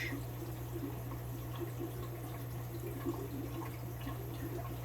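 Steady trickle of water running during an aquarium water change, a continuous low splashing wash with a constant hum underneath, moderately near and unbroken, with no voices.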